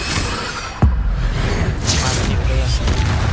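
The Incendio fire spell in Hogwarts Legacy lands with one sharp, booming burst and a fiery whoosh, followed by crackling, rushing noise amid combat, with voices speaking around it.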